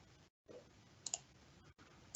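Two quick computer mouse clicks sound close and crisp against quiet room noise while a box is selected in Microsoft Teams, with a faint third click at the very end.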